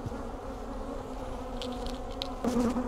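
Honeybees from an agitated, opened hive during an inspection buzz steadily and close by, a dense drone with individual bees flying past near the mic and growing louder toward the end.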